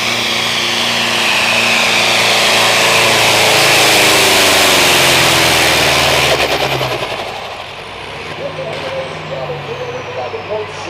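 A loud tractor engine roars at full power during a 6,500-pound tractor class pull in Melbourne, Ontario, a dense continuous drone for several seconds that drops off and fades into softer rumbling.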